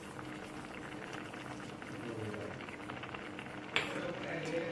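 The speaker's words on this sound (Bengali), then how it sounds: "আরও 2 মিনিট ভালো করে লাউ আর সুজি সেদ্ধ করে নেব" Bottle gourd and semolina simmering together in a pot, a low steady bubbling close by with one brief clink of a utensil near the end.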